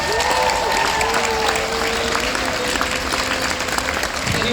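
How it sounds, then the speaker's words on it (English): A crowd at an evening charity ball gives the sponsors a sustained round of applause, dense and even from start to finish, with cheers and an occasional voice rising above it. "So how about a big round of applause for our sponsors?"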